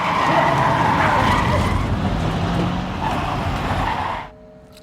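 A car chase from the Tokyo Revengers film, with a dense, loud roar of engine noise and skidding tires that runs throughout before dropping off abruptly near the end.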